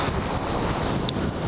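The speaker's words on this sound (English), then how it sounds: "like why is it so windy?" Strong wind buffets an outdoor microphone beside a Yamaha WR250R motorcycle, a steady, loud broadband rumble with no gaps across the whole stretch.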